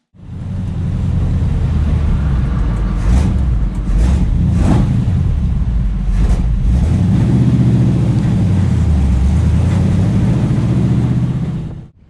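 Stock Chevrolet Corvette Z06 driving on a town road, its engine a loud, steady drone with brief swells as it accelerates, heard close with no talk.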